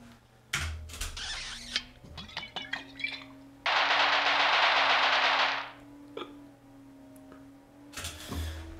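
Gunfire sound effects for a mouse game trailer: sharp single shots and a quick burst near the start, then a sustained two-second loud blast of rapid fire, with more isolated shots and clicks after it.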